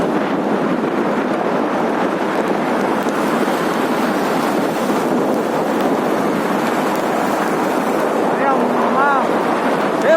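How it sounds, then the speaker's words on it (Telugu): Heavy rain pours steadily and close by, a dense hiss with no clear thunder in it, while a faint voice speaks briefly near the end. "ఇక్కడ ఫుల్ వర్షం"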